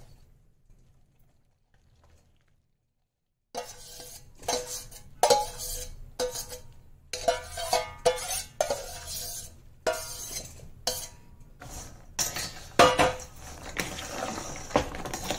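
Spoon or spatula scraping and clinking against a metal pan while thickened sugar syrup is stirred, a rapid irregular series of close metallic clatters beginning after a few seconds of near silence.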